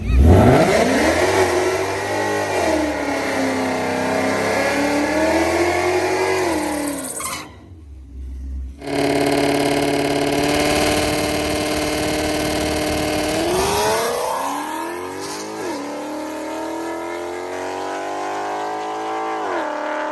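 A loud 2017 Mustang GT engine revs hard and climbs through gears, dropping out briefly before roaring again and fading as the car pulls away at speed on a dragstrip.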